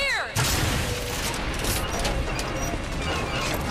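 An automated turret fires a dense burst of gunfire in a BioShock Infinite battle, a rapid, loud stream of shots with metallic clatter, starting abruptly after a brief whooshing effect and running continuously.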